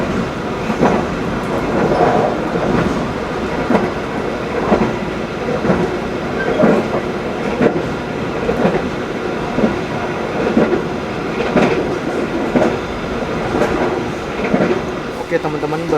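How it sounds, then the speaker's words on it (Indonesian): The Brawijaya passenger train runs on rails, heard from close behind the locomotive: a loud, continuous rumble with rhythmic wheel clatter throughout. "barusan kereta api Brawijaya berjalan langsung di stasiun Ngadilwi"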